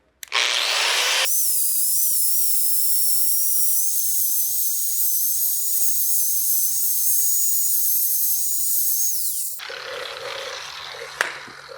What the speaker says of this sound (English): we're gonna grind up, clean the edges off, and then get our shape back in line